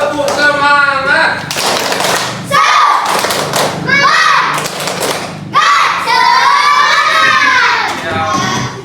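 A group of children do a rhythmic spirit clap in a classroom, sharp thuds and claps landing in steady bursts alongside loud shouting and chanting voices throughout.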